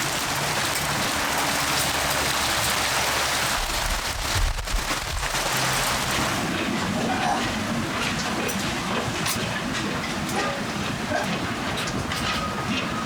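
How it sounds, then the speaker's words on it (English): Hail and rain fall on a C&C Landfall 43 sailboat in cold, windy weather, a dense, loud, continuous patter and rattle on the deck throughout, with a low rumble early on and no talk. "There is hail falling from the sky."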